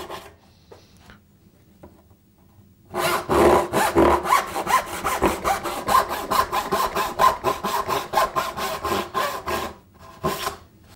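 Hand saw cutting a dovetail into wood, preceded by faint scraping, then a long run of brisk back-and-forth rasping strokes, close and prominent, with a brief pause near the end.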